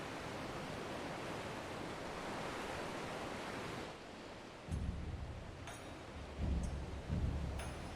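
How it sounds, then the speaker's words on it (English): Sea waves crash in Final Fantasy XIV, a steady broad roar of surf that thins out midway, then comes back in a few heavier swells. "I remember the sea, the smell of the salt, and the crash of the waves as we drew closer to Kugane."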